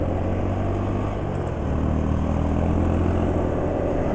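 A motorcycle engine runs steadily close by after an oil change to Shell Advance Power 15W50, giving a continuous loud rumbling drone with a slight lift partway through.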